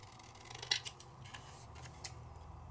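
Scissors snip a piece of card down smaller, a few quiet, crisp cuts and small rustles, close and alone, with no talking.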